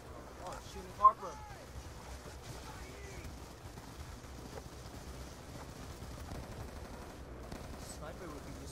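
A single sharp gunshot cracks out early in a Call of Duty Black Ops 2 firefight, followed by a low rumbling game backdrop while a voice talks over it.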